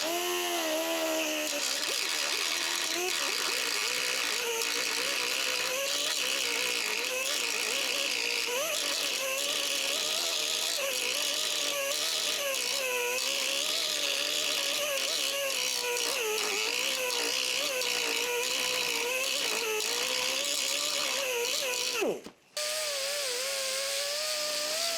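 Abrasive grinder cutting down welds on the doors of a 1972 Camaro, a continuous loud whine wavering in pitch as pressure changes, running nearly the whole time before a brief cutoff and restart.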